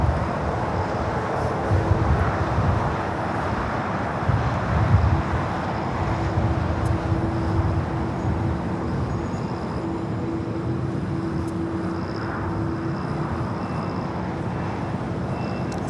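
A jet airliner arriving at LAX, heard as a steady broadband engine roar with a faint whine, fairly distant and constant throughout, mixed with airport and traffic ambience.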